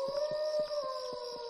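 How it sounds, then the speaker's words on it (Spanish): A werewolf's howl in the video game Bully, a long, steady wailing cry near a fairground at night, with faint rhythmic thumps pulsing beneath it, heard alone without speech. "cada noche de luna llena se escuchan los desgarradores aullidos de un hombre lobo"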